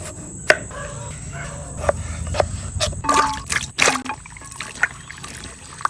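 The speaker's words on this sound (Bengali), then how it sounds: "কাটা আলুও ধোয়া হয়ে গেছে" Cut potatoes are rinsed in water, with close sloshing, trickling and knocking sounds in irregular bursts over a low background hum.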